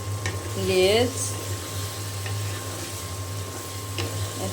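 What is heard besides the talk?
hilsa fish head frying in spiced oil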